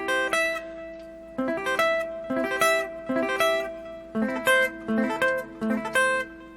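Electric or acoustic guitar arpeggios played with sweep picking, the pick rolling through each string in quick ascending and descending runs; clear melodic phrases repeat in a steady rhythm, close and alone with no talk.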